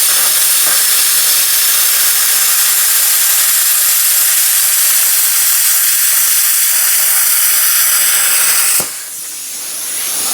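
A plasma cutter slicing through metal, a loud, harsh, continuous hiss right at hand for several seconds before cutting off abruptly into a softer, lower hiss.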